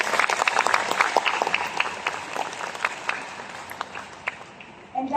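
Audience at a Riway business presentation giving a round of applause, a burst of dense clapping that thins out and fades toward the end, with no talk over it.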